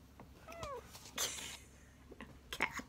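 A cat gives a few short, faint meows, with light clicks and knocks in the quiet room around it.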